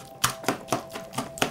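Vegetables for squash caviar being chopped by hand with a knife on a board: six sharp, evenly spaced chops, close and clear over a quiet kitchen background.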